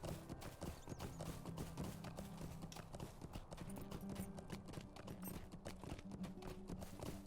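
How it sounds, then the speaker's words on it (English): Horse hooves galloping in Lord of the Rings Online, a fast continuous clip-clop rhythm that stays loud and close throughout, with no talk. "We're actually gonna hop on our horse to go back that way."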